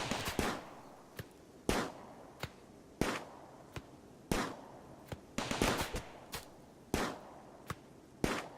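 Sharp, rapid bursts of turret gunfire from RimWorld, firing in irregular volleys with short pauses between shots, loud and close with no one talking.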